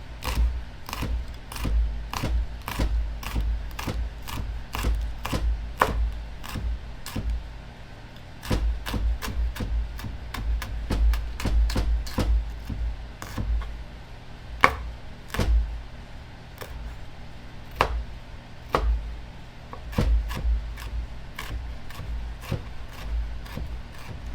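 Knife mincing jalapeños on a wooden cutting board for a jalapeño cheese spread, a steady series of sharp close chops arriving in quick bursts with brief pauses between runs.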